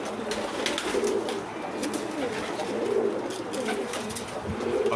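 A homing pigeon coos steadily close by, soft repeated throaty calls over a busy background of other birds in a loft.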